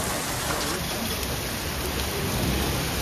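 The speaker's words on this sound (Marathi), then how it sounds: "ये हल्की बारिश नहीं है, बहुत तेज बारिश है भाई." Heavy rain pours in a dense, loud, unbroken roar, with faint voices mixed into the downpour.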